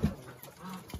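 Farmyard chickens clucking near a rooster, a loud low burst at the start followed by softer intermittent clucks, close by with no talk.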